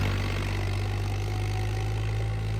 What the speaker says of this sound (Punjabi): ਤੇ ਆਵਾਜ਼ ਸੁਣੋ ਟਰੈਕਟਰ ਦੀ ਆਵਾਜ਼ ਬਹੁਤ ਘੈਂਟ ਹੈ